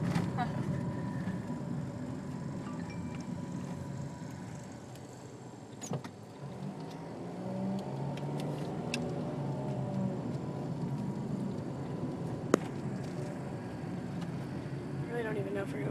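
A car drives through streets damaged by Hurricane Irene around a college campus. Steady road and engine rumble is heard from inside the cabin, with occasional sharp clicks and knocks, and people talk throughout.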